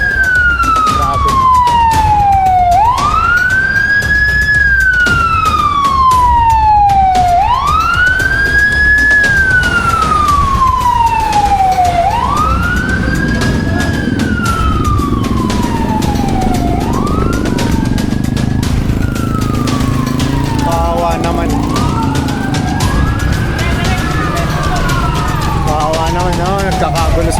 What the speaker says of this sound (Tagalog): Ayan yung fire truck, guys.